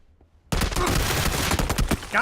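Rapid automatic gunfire from a PlayerUnknown's Battlegrounds firefight bursts in loudly after half a second of near silence and keeps going as a dense, sustained volley, with a voice mixed in.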